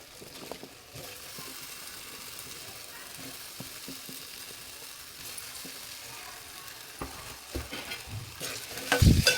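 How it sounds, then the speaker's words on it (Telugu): Potatoes for aloo fry are stirred in hot oil in a pan, a steady soft sizzle running under scattered scraping spoon strokes, with a louder clatter of stirring right at the end. "ఇవన్నీ వేసుకున్నాక ఒకసారి ఆయిల్లో కలిసేటట్టుగా మంచిగా మొత్తం అంతా బాగా కలుపుకోవాలి"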